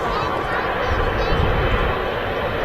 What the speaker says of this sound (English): A beautiful shot there of the Qatar triple taxiing towards us.